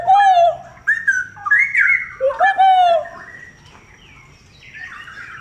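A pair of cucak rowo (straw-headed bulbul) sings in Klaten, Central Java, with loud, close, rich whistled phrases that rise and fall over the first three seconds, then fade to quieter background chatter.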